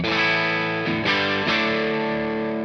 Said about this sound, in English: this sort of tape saturation, like when you push a tape and it kind of overdrives